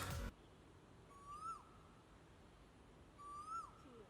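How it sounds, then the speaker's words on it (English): An Asian koel by a river gives two separate rising, whistled calls a couple of seconds apart, clear and moderately distant over a steady outdoor hiss. "the Asian koel."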